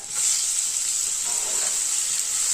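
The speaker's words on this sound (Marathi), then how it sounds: "कांदा आपल्याला एकदम छान अगदी पूर्ण लाल होईपर्यंत छान मोठ्या गॅसवर परतून घ्यायचा आहे" Onion frying in a pan over a high flame for a jackfruit vegetable dish, alongside crushed garlic, ginger and green chilli. The sizzle is loud and steady and continues throughout, with no talking.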